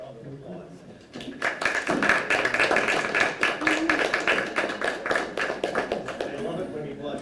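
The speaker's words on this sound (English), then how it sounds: "give him a round of applause" Scattered clapping swells into a round of applause from a modest group in a room at a board meeting, with some voices mixed in.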